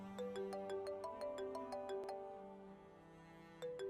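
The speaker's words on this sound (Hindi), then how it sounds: "तुम्हारे बाप का फोन होगा।" A phone plays a melodic electronic ringtone, a quick run of bright repeated tones, then a pause before the ringing resumes near the end, fairly quiet and with no voices.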